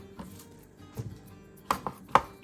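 Knife cutting food on a cutting board while preparing turkey noodle soup, with sparse soft thuds at first, then sharper, louder chops in a quick uneven rhythm near the end.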